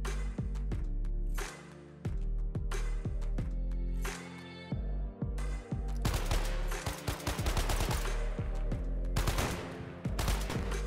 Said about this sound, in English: I studied making the rifle actually fire the bullets that affects the enemies.